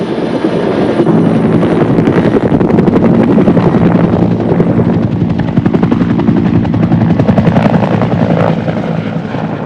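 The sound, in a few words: Bell AH-1 Cobra attack helicopter engine and rotor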